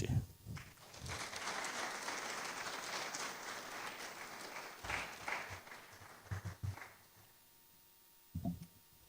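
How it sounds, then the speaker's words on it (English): Sustained applause from an academic ceremony audience fills most of the stretch, fading out, with brief bursts of a voice near the start and end. "with a round of applause, let's kindly welcome Professor Kofi Opoku"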